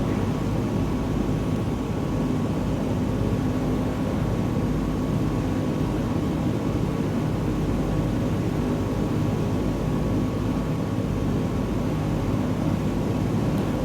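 Steady droning propeller engine of a small airplane cruising over Montana glacier country in Microsoft Flight Simulator 2020, a constant loud hum holding unchanged from start to finish with no voices.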